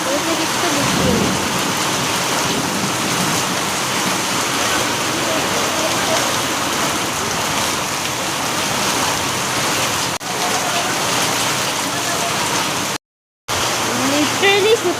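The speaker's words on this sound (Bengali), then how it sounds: "অতিরিক্ত বৃষ্টি হচ্ছে" Heavy rain pours steadily and loudly close by, a dense continuous roar; thunder is not distinct, and a voice may be faintly present.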